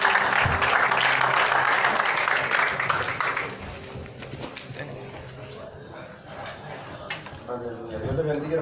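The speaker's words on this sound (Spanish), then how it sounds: "denle fuertes palmas al Señor" A church congregation claps loudly and steadily during a Spanish-language worship service, the applause fading after a few seconds as a voice speaks over the thinning claps.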